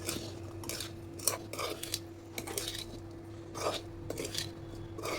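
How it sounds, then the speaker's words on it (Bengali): A spoon scraping and clinking against a bowl while amla pickle is mixed, irregular bursts of stirring between quiet gaps over a faint steady hum. "আমি সব দিয়ে ভালো করে মিক্স করে নেব, এইভাবে নেড়ে নেড়ে ভালো করে"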